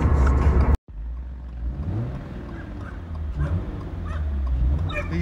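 A dog barks and whimpers inside a Subaru BRZ sports car, a few yips and whines over the low hum of the moving car's engine and road noise.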